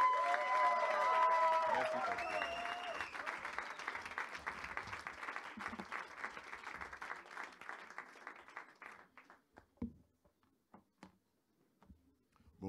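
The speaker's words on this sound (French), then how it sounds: "On acclame le Seigneur." A church congregation applauding and cheering to welcome the pastor at a worship service, with dense clapping and crowd voices at first that thin into scattered, slower claps before fading out.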